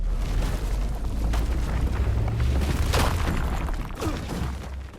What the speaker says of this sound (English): The plants around here, explode.